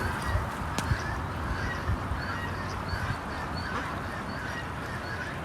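Several ducks call and honk amid steady rushing water from a strong current, the calls scattered and soft against the constant flow.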